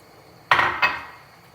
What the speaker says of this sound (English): So guys, just keep stirring until you see everything nice and clear.